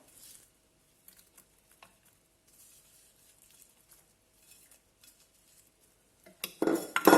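Light clinks and soft scraping as Peruvian ceviche is mixed with onion in a bowl, sparse quiet taps building to a louder clatter of utensils at the end.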